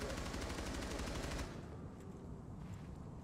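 Rapid automatic gunfire from the video game Rainbow Six Siege, a loud dense burst for about a second and a half that then drops to quieter game ambience.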